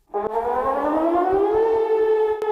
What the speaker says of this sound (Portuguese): A Dinamarca está testando as sirenes para situações de guerra.